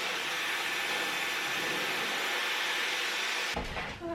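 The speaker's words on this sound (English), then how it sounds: "Now step 2 is to blow dry my hair as straight as possible on a medium heat" A hand-held hair dryer on medium heat blows hair straight with a steady, broadband whooshing roar that stays close and loud. It jolts abruptly near the end as the airflow shifts.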